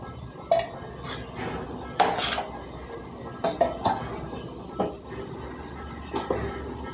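Boiled ivy gourds scooped from a pot into another bowl, with a series of sharp metal spoon-and-vessel clinks and scrapes at irregular intervals over a low background hiss.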